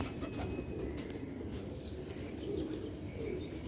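Rooftop pet pigeon kept by a Sialkot bird fancier, soft cooing and chirps over a rustle of wing flaps, close and fairly quiet, with no one talking.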